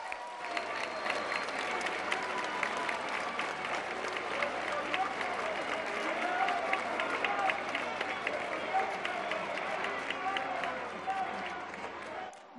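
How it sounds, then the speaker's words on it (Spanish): A large outdoor crowd at a public welfare-program event in Durango, Mexico claps loudly and steadily for about twelve seconds, a continuous dense clatter of many hands with a faint low hum beneath. "A ver, un aplauso fuerte."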